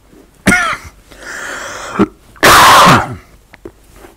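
Several harsh coughs in separate bursts, loud and close, with a big forceful hack near the end and quiet gaps between.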